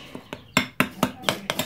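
Foam is whisked by hand in a bowl in a home kitchen for an apple and cocoa cake, giving a steady series of sharp clinking strokes about every quarter second, close and loud.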